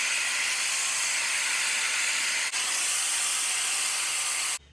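A hair dryer fitted with a diffuser blows steadily on curly hair being lifted at the roots, a loud, constant close-up whoosh that runs unbroken for several seconds before cutting off abruptly at the end.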